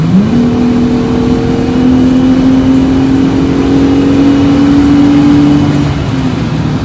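Loud and near, the V6 of a 2020 Jeep Gladiator with Flowmaster dual catback exhaust climbs quickly and holds a sustained rev for about five seconds, then settles back toward idle.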